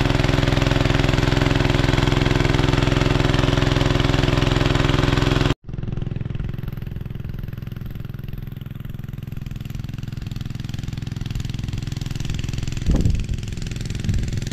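A farm water pump motor drawing water from a canal runs with a loud, steady engine drone that cuts off abruptly partway through, then continues as a quieter, more distant steady hum.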